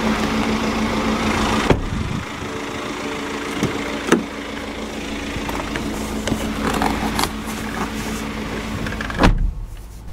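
Electric power windows of a 2015 BMW X5 SE sDrive25d whir up and down, with motor hums and sharp thuds as they stop, set against a faint idling engine.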